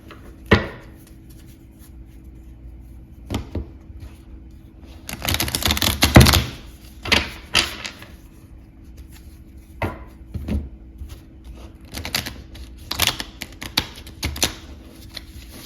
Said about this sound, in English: Let me just give it a quick shuffle